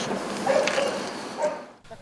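A dog at an animal shelter in Zaporizhzhia gives short, whiny yips and a soft bark, fairly close, over a muffled background with some indistinct voice.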